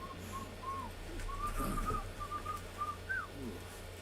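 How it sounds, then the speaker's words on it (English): Melodic whistled notes in a repeating tune from an Animal Jam character, clear and close over a steady low game background hum. "What are you whistling for?"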